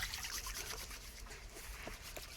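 Water trickling and splashing softly as men wash their hands and feet at a farm, a faint, steady flow with no voices over it.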